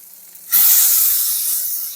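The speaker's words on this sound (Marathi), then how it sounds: "पाहू शकता एकदम मस्त असे फ्राय होतात." River fish frying openly in a hot pan, a loud sudden sizzle bursting in as the pieces are flipped and then holding as a steady bright hiss that fades only slightly.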